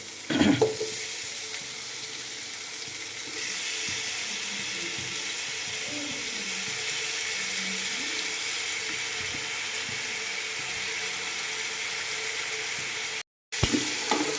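Chicken fries in a pan with a continuous, even sizzle for about fourteen seconds, close and moderately loud. A brief cut of silence falls near the end before the sizzling resumes.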